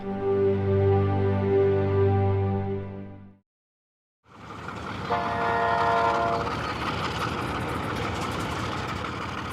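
A loud train horn blares for a few seconds, falls silent briefly, then the Namibia Desert Express rumbles by with clattering and a second, softer horn tone.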